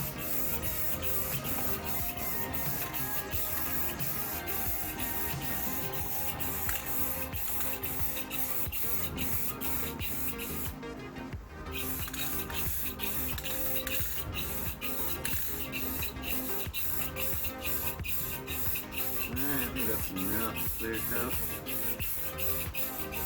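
Black spray paint being applied to body armor for a Jeep Grand Cherokee ZJ outdoors, a steady, continuous hissing spray with rapid pulsing clicks, running nearly unbroken apart from one brief pause, with faint voices in the background.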